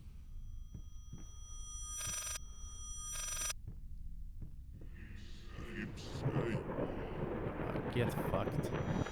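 A telephone rings in two short bursts inside the horror video game Layers of Fear, set against a quiet eerie ambience that swells into a louder rumbling drone near the end.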